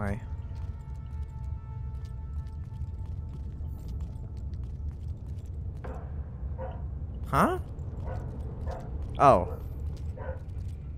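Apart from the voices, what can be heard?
dog barking during Far Cry gameplay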